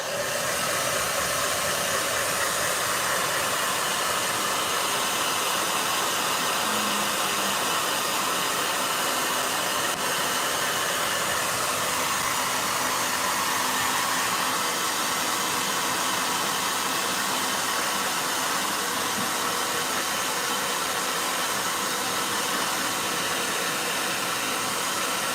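A hair dryer running steadily for the whole stretch, a constant airy whoosh with a faint motor hum and no voices.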